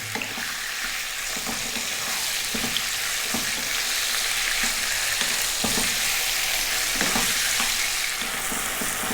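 Lamb curry frying in a pan on medium heat, with a steady loud sizzle broken by frequent scraping stirs. No one speaks.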